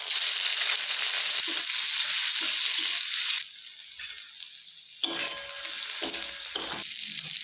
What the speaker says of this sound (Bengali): তেল গরম হয়ে গেছে, আমি চিংড়ি মাছগুলো ভেজে নিচ্ছি।